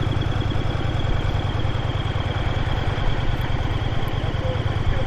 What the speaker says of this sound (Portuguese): Agora vou-vos mostrar aqui a passagem de moto aqui pelo centro da cidade.